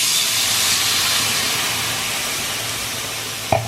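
Red wine poured into a very hot pan holding browned bits from searing: a loud, broad hiss and sizzle erupts and fades slowly, with a sharp clink near the end.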